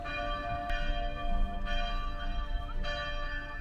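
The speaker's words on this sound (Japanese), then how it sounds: "カトリック元町教会の鐘の音も心に響きます。" The bell of Catholic Motomachi Church in Hakodate, Japan tolls three times at a steady pace, each strike ringing out and decaying over a low hum.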